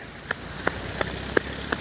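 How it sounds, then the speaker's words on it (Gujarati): Steady rain hisses close by, with sharp taps striking at a regular pace on top of the downpour. "પલાળી દેશે વરસાદ ફૂલ આવે છે"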